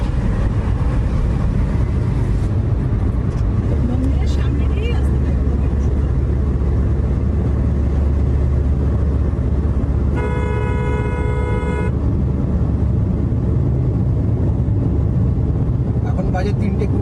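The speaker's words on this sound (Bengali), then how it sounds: "কল্যাণেশ্বরী মন্দির থেকে আমরা বেরিয়ে একটুখানি এসেই ন্যাশনাল হাইওয়ে 19 ধরলাম।" Car on National Highway 19 heading toward Kolkata, a constant loud road and engine rumble from inside the vehicle, with a sustained horn blast from another vehicle partway through and faint horns elsewhere.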